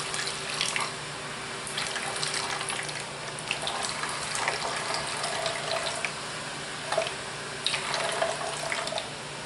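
Tap water runs into a pitcher for soap making, a steady close splashing stream with a few brief clinks and surges along the way.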